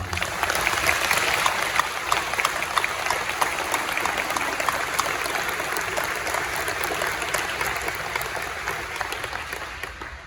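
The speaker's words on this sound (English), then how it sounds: "A round of applause for the men's and women's tennis team" A crowd at an outdoor tennis complex ribbon-cutting ceremony applauds the men's and women's tennis teams, with steady, dense clapping sustained for about ten seconds and slowly thinning toward the end.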